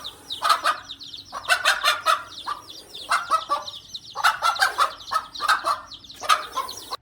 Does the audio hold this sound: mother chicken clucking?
yes